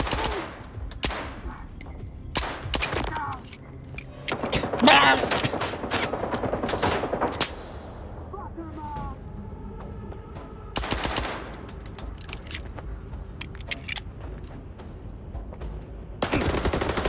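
Gunfire in the video game S.T.A.L.K.E.R. 2: Heart of Chornobyl, with bursts of automatic fire and sharp single shots spread across the stretch, loud and close, separated by quieter gaps.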